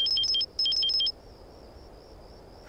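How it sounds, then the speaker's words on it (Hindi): A phone rings in a domestic scene of a Pakistani drama: two bursts of rapid electronic trill tones, each about half a second long and close to the listener, separated by a short gap, followed by a faint steady high tone. "फोन आ रहा है उसका।"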